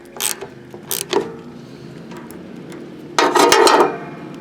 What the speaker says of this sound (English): now I got to get my proper size wrench. And I'm going to go ahead and start tightening these up.